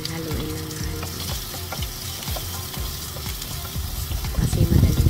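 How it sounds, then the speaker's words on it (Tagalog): Chow mein frying in a hot pan while being stirred and tossed, with steady loud sizzling, scraping strokes of the utensil and a louder burst of sizzle near the end. "Mix na, ano lang, haluin lang na haluin"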